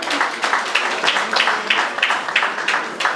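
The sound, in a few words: audience applauding for chef Léonard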